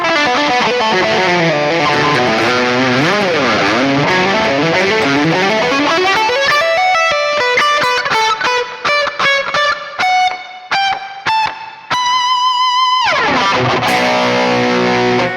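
An effected electric guitar, a Kramer SM-1 on its single-coil pickup, plays sweeping, sliding phrases and then choppy staccato notes, bright and clean of hum, heard alone.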